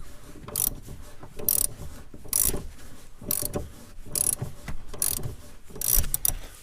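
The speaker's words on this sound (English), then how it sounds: "we're going to turn the shaft inside the nut like this until the nut is off" A wrench ratchets a nut off the rear shock absorber shaft of a 2014 Chevy Spark, with about six close, crisp bursts of ratcheting clicks at a steady rhythm, roughly one each second.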